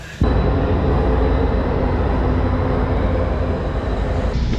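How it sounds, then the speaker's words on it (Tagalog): Inside a moving passenger train on a route toward Union station in Canada, a steady loud low rumble and rolling rail noise fills the cabin throughout, with no talking. "Dito na tayo sa train."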